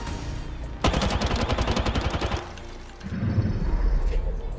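Gunfire in Apex Legends, a rapid, loud burst of automatic shots lasting about a second and a half, followed by a low rumbling tail.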